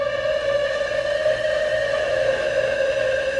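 Nord synthesizer playing gliding notes pushed through heavy distortion: a thick, buzzy sustained tone holding steady throughout, loud and alone with no voices.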